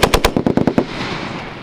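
Machine gun fires a rapid burst of about eight loud, close shots during army paratrooper walk-and-shoot training, followed by a fading echo and rumble across the range.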